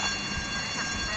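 A fire-alarm style ringing blares steadily from an alarm going off in the video game GTA Vice City, continuous and fairly loud for the whole moment with faint game noise beneath.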